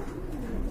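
Pigeons in a crowded coop of breeding pairs coo in a low, steady murmur, a close continuous warble with no voices over it.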